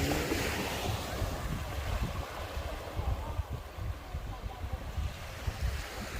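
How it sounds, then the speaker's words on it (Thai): Gentle sea waves wash onto Chao Samran beach in Phetchaburi, Thailand. The surf is faint and continuous, with a soft breeze over it. "ทะเลวันนี้ไม่คลื่นไม่แรงนะคะ คลื่นไม่แรง"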